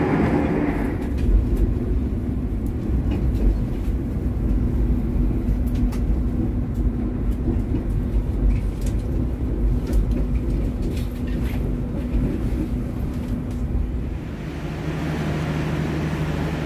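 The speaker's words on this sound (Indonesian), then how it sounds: "Kereta api Lodaya Malam yang saya naiki saat ini sudah tiba dan berhenti di stasiun Tugu Yogyakarta." The Lodaya Malam night train rumbles steadily as heard from the vestibule between carriages, a loud continuous rolling drone with rattles and a sustained low hum, easing slightly near the end as it slows approaching Yogyakarta Tugu station.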